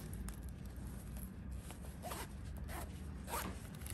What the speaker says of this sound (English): and then zip.